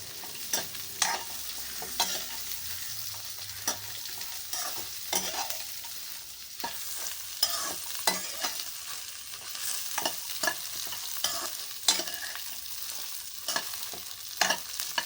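Dried red chillies frying in oil in a pan while a spoon stirs them, a steady close sizzle broken by regular scraping clinks of the spoon against the pan, heard alone without any talk.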